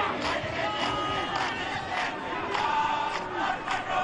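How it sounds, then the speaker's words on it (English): A school rugby cheer group chants loudly from the stands at an under-18 quarter-final match, a steady crowd roar with rhythmic shouted pulses running throughout. "Here's the RKS cheer group."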